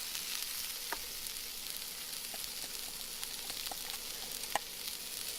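Courgettes frying in a pan for a frittata give a steady, even sizzle, dotted with light clicks and taps from a utensil, with no talking.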